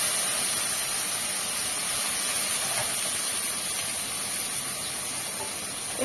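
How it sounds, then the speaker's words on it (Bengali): Chopped onions with a pinch of salt fry in hot oil with whole cumin and chili in a pan, giving a steady, loud sizzling hiss that holds evenly throughout with no talk. "পেঁয়াজটা আমি এবার লাল লাল করে ভেজে নেব।"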